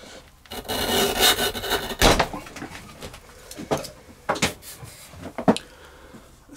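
A leather belt skiving machine shaves a tapered skive off a leather strap, making rough rubbing and scraping sounds with a few sharp clicks and knocks, close up and uneven.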